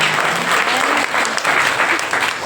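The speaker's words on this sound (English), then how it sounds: "Round of applause for Chitralingam." Audience applause at a bhakti spiritual retreat in Amsterdam, a dense, loud, steady wash of many hands clapping at once, with faint voices mixed in.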